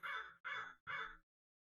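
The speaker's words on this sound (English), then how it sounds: "Wow, that is a loud bird." A loud bird, crow-like, gives three harsh caws in quick, evenly spaced succession, close by and with no other sound around them.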